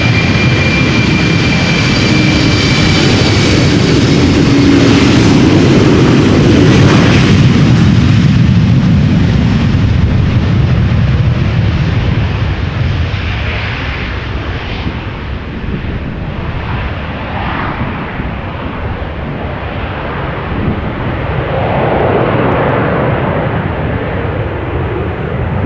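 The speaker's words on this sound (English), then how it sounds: "KLM flight 1917, Embraer 190, destination Gdansk in Poland." A KLM Embraer 190 jet airliner departing Amsterdam Schiphol Airport on a damp runway: a loud, steady engine roar that swells and then slowly fades as the jet moves into the distance.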